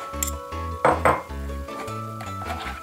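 A whisk or spoon clinks repeatedly against a bowl while waffle batter of flour and melted butter is mixed, with bright scattered chinks over a steady tonal background.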